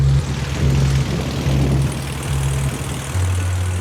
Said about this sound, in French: l'avion qui le ramène en France atterrit au Bourget